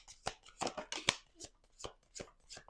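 Tarot cards being shuffled by hand, a run of crisp riffling bursts spaced at irregular intervals, close and clear against a quiet background.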